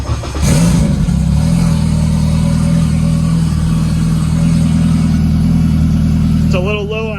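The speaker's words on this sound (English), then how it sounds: "Turn the boost controller off and it's fired up." A turbocharged Honda K24 engine on a Haltech setup with a choppy RPM signal fires up and settles into a loud, steady idle drone, with a short warbling tone near the end.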